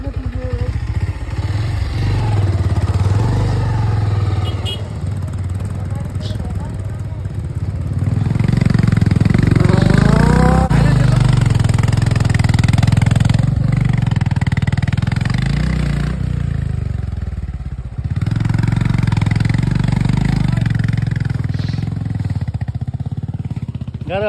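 A motorcycle stuck on a rough, slippery mountain track revs hard and labours in bursts, loud and close, surging and easing with clattering, while people strain to pull it free with a rope.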